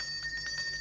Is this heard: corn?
no